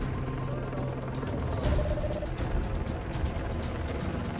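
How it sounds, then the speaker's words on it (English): A LiDAR truck rolls past a ranch site, giving a steady, fairly loud engine rumble and road noise that swells briefly midway through. "the LiDAR truck is passing through the triangle right now"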